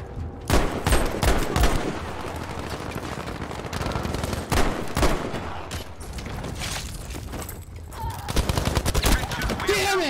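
Rapid pistol gunfire fills a round of the video game Krag, with bursts of sharp shots that come in clusters, loud and close, and someone talking over parts of the exchange.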